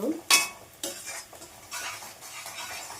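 Onions browning in a pan for chicken curry, a soft continuous sizzle with a sharp metallic clink of a spoon against the pan, then brushing stirring scrapes that come and go.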